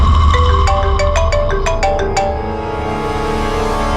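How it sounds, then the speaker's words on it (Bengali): A mobile phone rings with an incoming call in a crime-drama scene: a loud, bright melodic ringtone repeats its short tune for about two seconds, then sustains and fades slightly toward the end. "এসে গেছে সিআইডি লোকেদের ফোন।"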